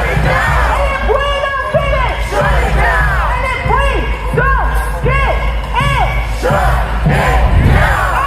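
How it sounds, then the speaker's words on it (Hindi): A crowd of protesters in American streets shouts and chants against war with Iran, with many voices yelling and whooping in loud, overlapping bursts throughout. "अमेरिका के लोग सड़कों पर उतरकर ट्रंप के खिलाफ प्रदर्शन कर रहे हैं और चीख चीख कर कह रहे हैं"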